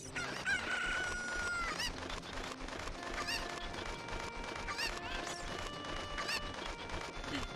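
In a video game, chickens crow and cluck with honking goose-like calls, layered over steady game music tones and dense clatter, repeating throughout without a pause.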